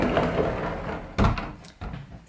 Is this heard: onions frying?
no